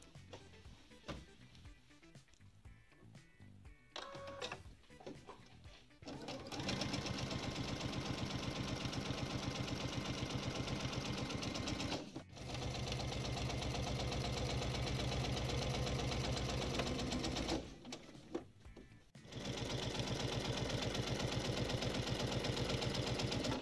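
A sewing machine stitches quilt squares for pinwheel flowers, starting after a quiet handling stretch and then running in a steady, loud mechanical whir that stops briefly twice before resuming.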